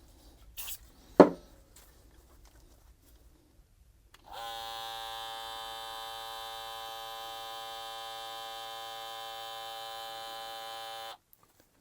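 A BaByliss Snap FX hair clipper switches on after a couple of faint clicks and runs with a steady, bright electric buzz for about seven seconds before stopping.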